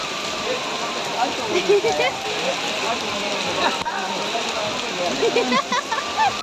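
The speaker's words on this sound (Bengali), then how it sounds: "এখানে কিন্তু আবারও পুরো বৃষ্টি পড়ছে" Heavy rain pours at Kamakhya temple as a dense, steady patter and splash close by, with voices of people talking nearby underneath.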